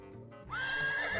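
A game horse in Hearthstone Battlegrounds gives a short, clear whinny that rises and holds for under a second over a quiet game background, with no talk over it.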